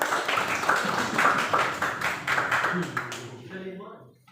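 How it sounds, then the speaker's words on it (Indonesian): A class applauds together, a dense run of rapid hand claps carried under voices, thinning out and fading away at the end. "Oke, tepuk tangan untuk kita semuanya dulu."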